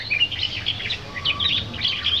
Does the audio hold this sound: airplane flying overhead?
no